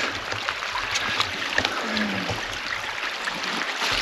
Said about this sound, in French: Belle petite rivière tranquille.